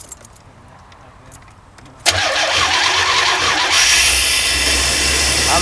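A Lazy Daze motorhome engine with a newly replaced muffler cranks and catches about two seconds in, then settles into a steady, fairly loud idle that carries on to the end.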